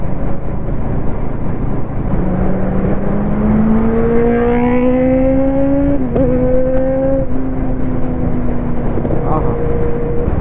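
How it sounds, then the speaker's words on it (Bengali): A superbike revs ahead on a national highway past a toll plaza, its rising engine whine climbing and shifting over a loud, constant road and wind roar heard from inside a moving vehicle. "সামনে সুপার বাইক যাচ্ছে।"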